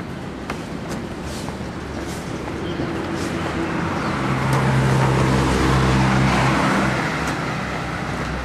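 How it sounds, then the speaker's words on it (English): Road traffic on Kennedy Road by Bowen Road, Hong Kong, in 1991, with a continuous rumble of passing vehicles and engine drone that swells in the middle and then eases, heard from the roadside. "Got a bit more traffic now."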